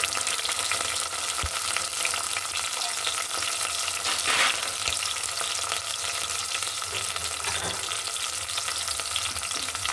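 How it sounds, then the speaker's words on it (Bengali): Chopped onion and slit green chilies fry in oil in a pan, giving a steady, dense sizzle that stays loud throughout with faint scrapes and a brief stir. "এটা একটু একটু হালকা করে ভেজে নেব"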